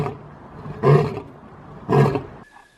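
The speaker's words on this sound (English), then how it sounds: "Tiger." Two loud, deep tiger roars about a second apart, each a short rasping burst over a low rumbling background, with no talk.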